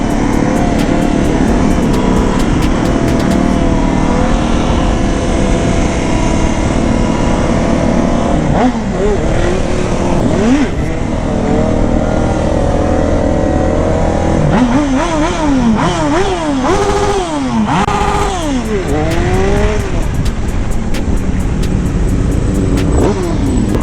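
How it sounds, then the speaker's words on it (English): Honda 954 sport motorcycle engine revved hard against the rev limiter inside a large motorcycle shop, a loud sustained howl with rapid stuttering limiter bounces and repeated rising and falling revs. "This 954 sounds good on the rev limiter."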